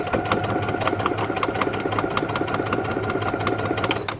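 A sewing machine stitching a dress garment runs at a steady close, loud pace, its needle ticking in a fast even rhythm with a mechanical hum beneath, no talk.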